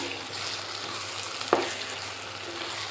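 Broad beans (chikkudukaya) fry in a pan for an Andhra-style egg curry, giving a steady, close sizzle throughout with one brief stirring clack midway and no talk.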